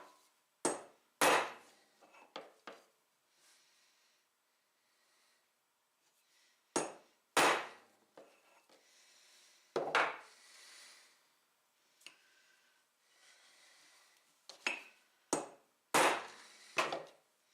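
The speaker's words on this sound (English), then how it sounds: "Now we can center punch." Hammer blows drive a center punch into a large stainless steel plate, sharp metallic strikes in small clusters of two or three separated by quiet pauses, close and crisp, with no talking.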